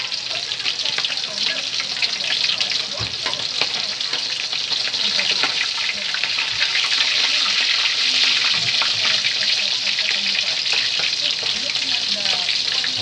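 Milkfish (bangus) frying in hot oil without a flour coating, a steady close crackling sizzle that runs the whole time with small pops and spatters, no voices heard over it.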